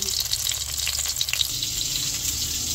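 An eggplant omelette (tortang talong) fries in a pan, giving a steady bright sizzle of hot oil close by, with a faint low hum underneath and no talk.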